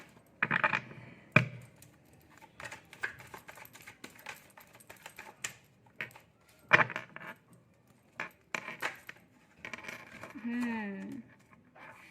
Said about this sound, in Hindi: बहुत सारी कार्ड्स गिर रही है,